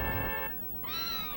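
A cat meows in the Super Famicom game Kat's Run, two short tonal cries rising out of a faint background hum.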